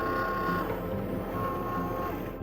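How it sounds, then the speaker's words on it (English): A Cricut cutting machine works on an ornament box, a quiet mechanical whir with a faint tonal motor hum that starts and stops in short runs. "cut it on my Cricut"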